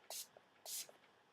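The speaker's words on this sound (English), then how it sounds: "take the Urban Decay De-Slick Spray again, shake it up, hold it away from your face," Two quick hissing bursts of Urban Decay De-Slick setting spray misted toward a face, close and crisp with a short pause between them.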